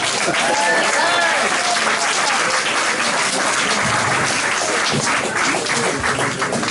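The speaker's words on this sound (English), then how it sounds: "Now you can applaud." Applause breaks out at a homeowners' association board meeting after a vote result, steady clapping from a small room of attendees that sustains evenly throughout, with a few faint voices mixed in.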